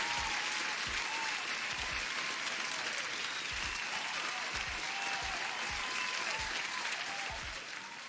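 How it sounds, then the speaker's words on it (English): Canned applause effect played on a live futures trading stream, a steady bed of clapping and crowd cheer at modest volume running for several seconds before tapering slightly at the end. "And you deserve an applause too."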